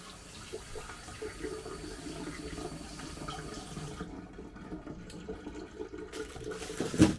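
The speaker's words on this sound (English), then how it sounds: "I'm just going to rinse my hands off." Tap water runs steadily into a sink as hands are rinsed, a soft close splashing hiss that stops briefly near the end, then resumes.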